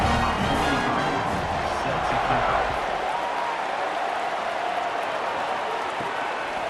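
Loud stadium crowd roaring and cheering at a night college football game in EA Sports College Football, a dense steady wall of noise from many fans that stays high throughout, strongest in the first seconds.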